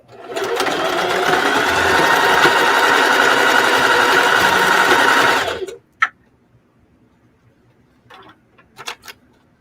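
Sewing machine running steadily for several seconds while backstitching sock fabric, loud and close, then stopping abruptly, followed by a few faint clicks and handling sounds.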